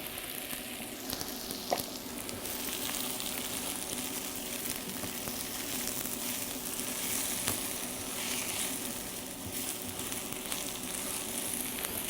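Onions sizzling in a pan at a restaurant cooking demonstration as sliced mushrooms go in; a continuous close frying hiss with occasional soft clinks and stirring scrapes, no voices.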